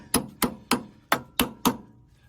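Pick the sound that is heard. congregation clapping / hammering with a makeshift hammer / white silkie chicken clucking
hammering with a makeshift hammer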